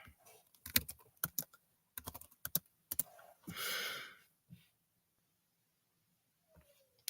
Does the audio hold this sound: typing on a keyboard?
yes